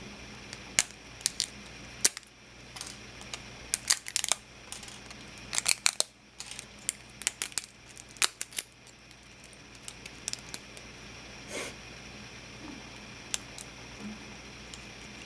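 Thin walls of a small 3D-printed plastic model being peeled off the print, a scattered series of sharp dry clicks and snaps, close and intermittent over quiet background.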